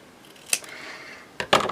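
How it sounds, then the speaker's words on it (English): Scissors trimming the edge of journal paper: two brief crisp snips, the second a quick double cut, close and fairly quiet over a faint background hiss. "I'm just going to trim the edge up there."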